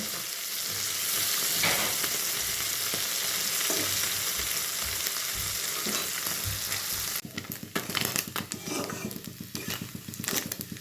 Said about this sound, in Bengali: আমার মাছগুলি কিন্তু আমি একদম লাল লাল করে ভেজে নিয়েছি